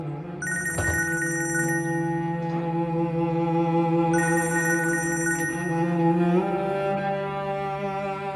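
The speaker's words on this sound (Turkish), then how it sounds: "Telefon?" A telephone rings with a bright electronic ring in repeated bursts over a sustained tonal backdrop, clear and close, with no talking.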